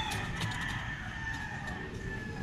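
Chickens clucking in a yard, a close, steady flock chatter with a rooster's crow mixed in over outdoor background noise.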